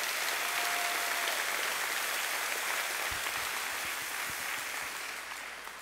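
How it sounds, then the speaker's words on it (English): Broad applause from a conference audience at a mayor's welcome address in Sacramento, dense and even at first, then gradually thinning and fading over a few seconds. "Let's give them a quick round of applause."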